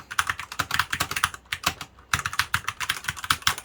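Rapid, close keystrokes clatter from an E-Yooso TKL mechanical keyboard with budget plastic keycaps, typed in steady bursts with a brief pause midway.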